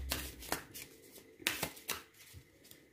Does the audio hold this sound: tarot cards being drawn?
yes